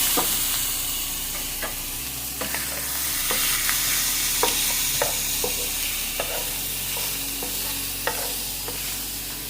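Shrimp chow mein with green onions and soy sauce stir-fried in a pan: a steady, close sizzle runs throughout, with repeated sharp scraping clicks of a utensil stirring the noodles at an irregular rhythm.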